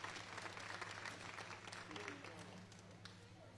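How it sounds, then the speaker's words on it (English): Applause from an audience at an alpaca show's adult costume class, a steady dense patter of clapping lasting throughout, with voices mixed in underneath. "Let's give a big round of applause for Pink Pegasus and the Princess."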